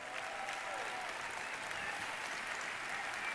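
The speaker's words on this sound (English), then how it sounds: "give them some applause" Audience applause at a Tableau developer conference stage show in 2016, a steady, even roar of many people clapping that stays at constant strength from start to finish, fairly distant and without voices.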